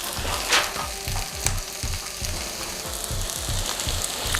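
Onions fry in a pan with a little bouillon added, a loud, steady sizzle with soft rhythmic stirring scrapes running throughout and no talk.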